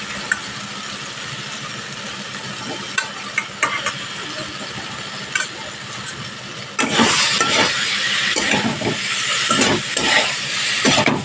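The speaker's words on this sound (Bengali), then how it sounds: "এবার এখানে ডাঁটা আলুটা আমি দিয়ে দেবো, দিয়ে ভালো করে আরও 2-3 মিনিট মতো কষিয়ে নেবো।" Spices, drumstick pieces and potato being stir-fried in a pan for katla fish curry, with steady sizzling that jumps louder partway through as the vegetables go in, and scattered scraping clicks of a spoon before that.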